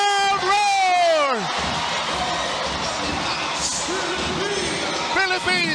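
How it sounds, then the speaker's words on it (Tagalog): Crowd roars and cheers at a women's volleyball match between the Philippines and India at the AVC Women's Challenge Cup, with a loud sustained roar filling the arena under excited commentary. "And listen to this crowd roar!"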